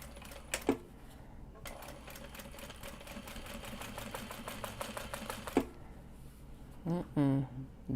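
A home sewing machine runs in one steady stretch of fast, even mechanical stitching, starting and stopping with a few clicks, followed by a brief voice at the end.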